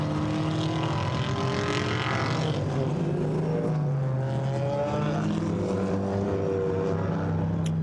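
GT4 race cars at the Zandvoort circuit roar past, their engine notes rising and falling through gear changes over a constant loud drone, with several cars overlapping.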